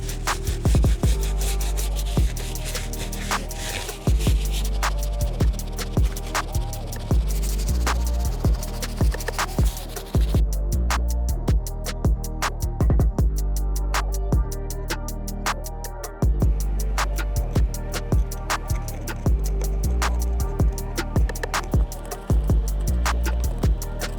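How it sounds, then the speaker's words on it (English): Medium brush scrubbing the midsole of a Nike Vapormax Plus sneaker, a dense run of close, rapid scratchy strokes in steady rhythm, loud and unbroken with no talk. "move on to the midsole using the medium brush, and then of course the outsole using the stiff bristle brush"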